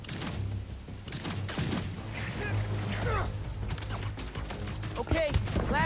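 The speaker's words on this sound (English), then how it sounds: "Lit two more?" In the Spider-Man 2 video game, fireworks burst and crackle in a string of sharp pops and whistling rises over a rumbling backdrop, with scattered game voices mixed in.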